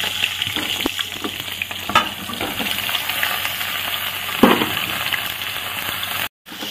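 Pointed gourd (potol) curry fries in a pan with a loud, steady sizzle, broken by occasional scrapes and clinks of stirring, and no talk.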